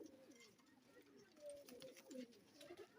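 Pakistani pigeons for sale cooing softly in low, repeated throaty bursts, faint and close, with someone talking over them throughout.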